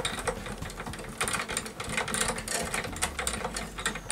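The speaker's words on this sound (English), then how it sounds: "Now sometimes use my string winder, wind it down." A hand string winder turning a guitar tuning peg to wind a string down, producing a rapid, continuous rattling whir with small clicks, close by and steady for several seconds, without talk.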